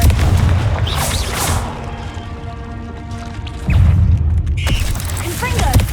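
Confringo blast spell in Hogwarts Legacy going off as a booming impact with mechanical rattles and creaks, swelling again near the end.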